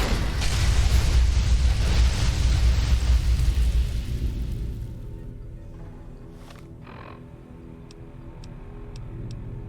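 A frag grenade explosion in Fallout: New Vegas, a loud rumbling blast that roars for several seconds and then fades, followed by a few faint metallic ticks and clicks.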